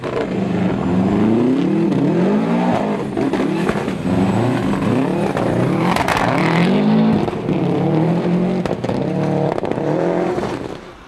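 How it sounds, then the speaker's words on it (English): A Subaru Impreza rally car at the Summit 2000 Rally slides on a slippery surface, its engine revving loud and close with rising and falling pitch, tyres scrabbling beneath it. "Stig, in the less advanced of Kenny McKinstry's Imprezas, is sliding to sixth"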